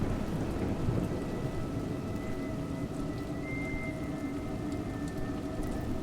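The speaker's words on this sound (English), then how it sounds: "It's raining." Steady rain pours throughout with low thunder rumbling beneath it, a continuous, moderately loud storm scene in the video game A Juggler's Tale, with no speech.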